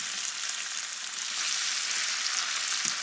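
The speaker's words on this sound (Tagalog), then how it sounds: "Igigisa ko yung patatas." Potatoes sautéing in hot cooking oil for a mixed vegetable dish, giving a steady, bright sizzle and crackle throughout, close and fairly loud, with a brief low thump near the end.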